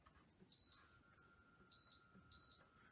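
A portable induction cooktop gives three short, clear electronic beeps as its power and timer are set. A faint steady tone runs underneath in a quiet room.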